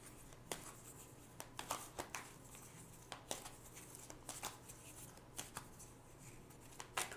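Tarot cards are shuffled in a quiet room to draw a card for love, with repeated crisp riffling flicks and slaps at an uneven rhythm over a low steady hum, close and fairly soft.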